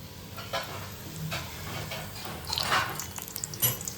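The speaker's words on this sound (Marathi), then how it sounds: "आता मिरच्या मस्त तेलात तळून द्यायच्या" Chilies coated in batter deep frying in hot oil, a moderate bubbling sizzle that swells and crackles with a few stirring knocks; no voices.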